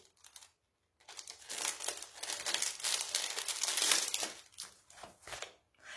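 Sheets of 15 by 15 scrapbooking paper from a pad are handled up close, with crinkling and rustling that builds into a sustained flutter before settling into softer shuffles.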